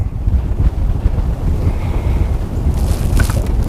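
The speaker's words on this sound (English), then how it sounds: "That wind just changed directions twice." Strong wind rushes and buffets outdoors by the water while fishing, a loud continuous roar with gusty rumble and no talk.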